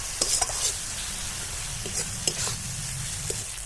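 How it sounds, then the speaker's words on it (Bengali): Tomato masala fries in oil in a pan for a Bengali yam curry, a soft, even sizzle with scattered scraping stirs and light clicks of a spoon. "এবার তেল ছেড়ে আসা পর্যন্ত মশলাটিকে খুব ভালোভাবে কষাবো"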